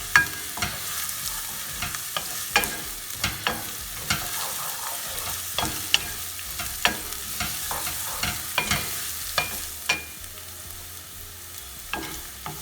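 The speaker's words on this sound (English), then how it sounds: "to this we're gonna add some cumin and kalonji seeds and toast them well." Cumin and kalonji seeds toasting in a hot pan for a potato and pea samosa filling, a quiet sizzle punctuated by frequent sharp crackles and stirring scrapes at an irregular rhythm.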